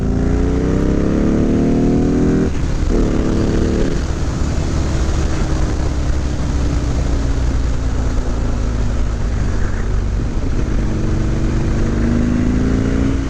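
A motorcycle fitted with a D&D exhaust rides along at speed, its loud engine drone rising and falling through shifts over steady wind and road roar, with no talking.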